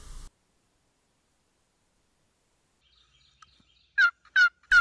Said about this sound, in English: Lucky enough, I've got a gobbler on the roost